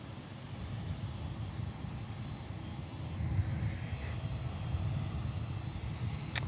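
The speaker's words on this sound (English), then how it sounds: "Amazon Prime Air." Amazon Prime Air cargo jet at Miami Airport, a steady low engine roar that swells slightly midway and holds, fairly distant and unbroken, with no voices.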